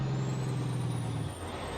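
A truck engine brake in the American Truck Simulator game gives a deep, loud, steady rumbling drone for over a second before easing off, with no talking over it.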